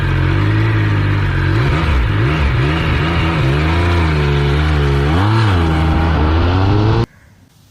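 A Triumph Speed Triple 1200 motorcycle runs a 0 to 100 acceleration, its engine roaring loud and close and rising in pitch through repeated gear changes for about seven seconds before cutting off abruptly.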